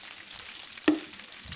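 Pieces of brinjal fry in hot oil with a continuous close sizzle and a single short clink of a utensil partway through.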